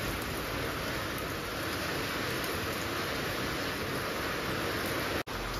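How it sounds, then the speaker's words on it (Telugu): Heavy rain pours steadily during outdoor cooking of a methi mutton curry, a dense, even hiss that fills the whole stretch with one brief dropout near the end; no voices. "ఇక్కడ ఫుల్ వర్షం పడుతుందండి."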